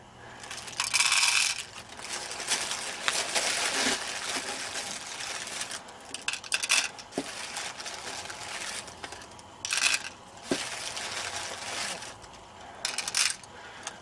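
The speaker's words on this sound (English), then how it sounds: "I just happen to have some BBs in a plastic bag here" Airsoft BBs rattle and clatter inside a plastic bag in bursts of jingling and crinkling, close by, separated by quieter handling noises.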